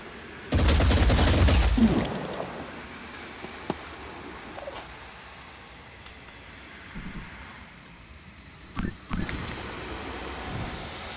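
A loud burst of automatic gunfire lasting over a second comes from the video game Phoenix Point, followed by quieter stretches with faint isolated shots and soft game ambience while someone talks.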